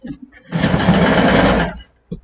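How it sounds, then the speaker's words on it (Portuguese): A sewing machine stitching the first seam of a collar runs in one loud, steady whirring burst of about a second, close up, with soft talk just before and after it. "Eu passo essa primeira costura aqui."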